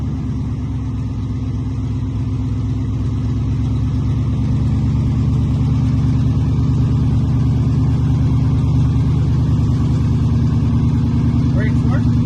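The engine of a 1971 International Harvester Loadstar truck idles steadily, a loud, close, low drone that holds constant while the truck's hydraulics are worked.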